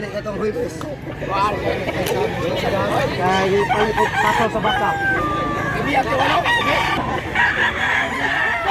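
Many chickens cluck and roosters crow in a busy, crowded poultry market in Mantalongon, Barili, Cebu, with people talking throughout.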